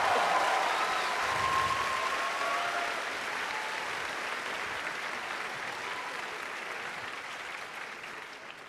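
A live audience of about 4,000 people at a convention podcast panel screams and cheers, a dense roar of applause and shouting that swells at once and then slowly tapers off.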